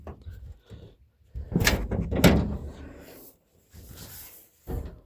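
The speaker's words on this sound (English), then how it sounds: "let's open the door again" Door of a 1978 Dodge D100 pickup truck opened and shut: a couple of close, sharp metallic clunks and latch sounds separated by quiet pauses, with a little faint talk.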